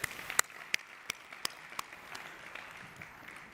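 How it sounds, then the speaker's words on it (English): Audience applause at a sports summit, a scattered round of clapping with sharp individual claps standing out over a steady wash of hands, held at moderate level throughout. "Big round of applause for that lady."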